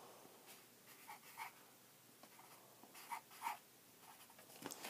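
A chalk pencil scratches short marks onto card stock, making a few quiet, brief strokes in small bursts, faint against a hushed room with no talking.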